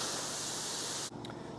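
A paint gun sprays lacquer thinner while being cleaned, producing a loud, steady close hiss of spray that cuts off abruptly near the end, followed by a faint short burst.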